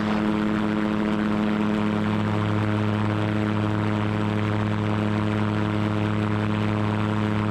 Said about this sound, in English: we're just doing a normal takeoff run at this point